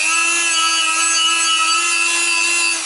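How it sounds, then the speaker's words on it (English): Sandpaper rubbing inside the holes of a Toyota Corolla brake disc, a continuous close scratchy rasp with a steady hum beneath it, loud and unbroken for the whole three seconds. "And then I sandpaper also these holes in this my brake disc"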